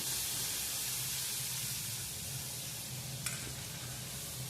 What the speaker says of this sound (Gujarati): અને તે હલાવીને આપણે મિક્સ કરીશું